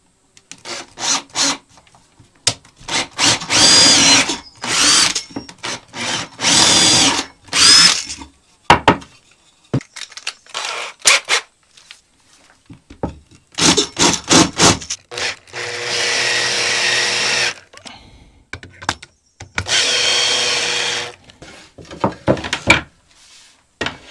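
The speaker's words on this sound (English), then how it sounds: "I will pre-drill it to reduce the risk of the wood splitting." A power drill whirs in repeated short bursts with gaps between, then runs in longer grinding stretches as it bites into wood, loud and close.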